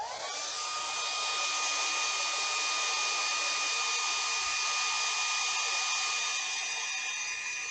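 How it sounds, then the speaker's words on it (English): A hair dryer blows steadily and loudly on a painted wood-turned Christmas ornament throughout, a constant high whine with a whooshing airflow and no talking. "So I'm gonna hit this with the blow dryer."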